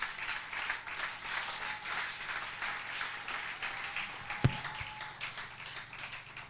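A church congregation bursts into steady applause and cheering, a broad wash of clapping that holds evenly from start to finish, with one sharp tap cutting through near the end.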